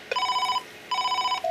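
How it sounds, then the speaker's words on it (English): A Norstar business phone rings on an outgoing call, giving two bright electronic ring bursts separated by a short pause, clear and close with no talking. "Let's call Montel again"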